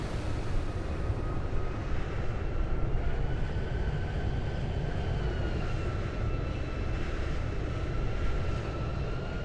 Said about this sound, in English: Look at that departure taking off.